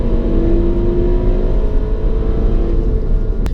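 A Seat Leon ST Cupra R with 365 horsepower accelerates, its engine a loud, steady droning roar that rises slightly in pitch, heard from inside the car.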